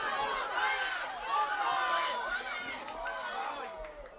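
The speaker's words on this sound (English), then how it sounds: "the crowd's getting more and more into this game" Spectators at a 2023 boys high school soccer match between Guntersville and Boaz make a steady, lively crowd noise of overlapping voices and shouts, with a sustained roar that swells and eases slightly without pause.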